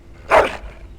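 A single dog bark from the video game Dragon Age: Origins, one short loud burst near the listener with nothing else around it.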